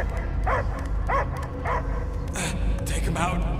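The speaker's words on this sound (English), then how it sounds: "I hear only barking" A dog yips and barks several times in the Guardians of the Galaxy video game, close and clear amid game background noise and voices.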